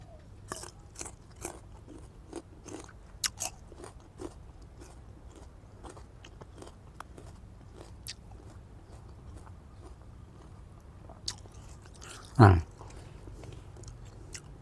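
Fresh Zaghloul date fruit, peeled and eaten raw, is bitten and chewed close to the mic, giving soft, irregular crunchy clicks throughout, with one louder crisp bite near the end.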